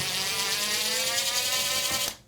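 A power drill whirs steadily, backing a screw out of a rusty baseboard hot water heat cover, with a continuous close mechanical whine that drops off abruptly at the end.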